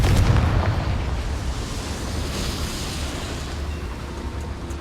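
A Confringo spell explosion in the video game Hogwarts Legacy: a loud booming blast up front that fades into a long, dense rumbling roar, with no speech.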